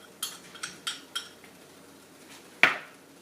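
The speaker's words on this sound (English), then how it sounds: "you will be mixing the meat up, the seasoned meat, like that, until you get all the season mixed up into it" A utensil scrapes and taps against a pan while seasoned ground meat, spiced with cumin and salt, is stirred for Mexican pizza. Four quick light clinks come in a row, then a sharper knock.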